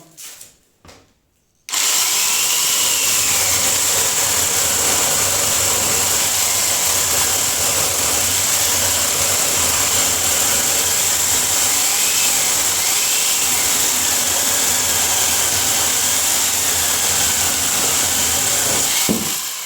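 An angle grinder fitted with a chainsaw attachment starts after a short quiet moment, speed control set to 4, then runs steadily at high speed with a constant whine and low rumble, close and loud.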